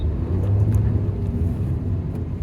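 A manual Hyundai i20 N-line pulling away in first gear, a steady low engine rumble and drone heard from inside the car, with no talking.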